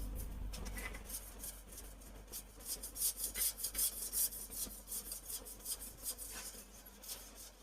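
Marker or chalk scraping across a board as notes are written, a run of short rasping strokes with irregular rhythm, close and fairly loud, no voice over it.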